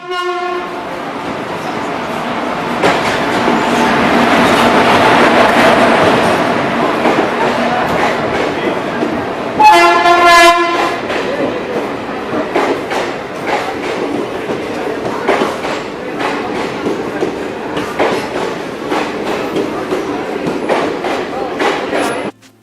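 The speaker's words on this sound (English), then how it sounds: "Preeti and I caught a train to Delhi" Loud train passing close by, with a sustained horn blast, rolling rumble and rhythmic clickety-clack of wheels on the rails.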